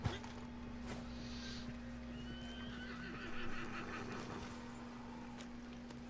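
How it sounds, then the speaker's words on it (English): A horse whinnies and its hooves clip-clop as it is called in Red Dead Online, over a steady game hum with a constant background tone. "Calling your horse."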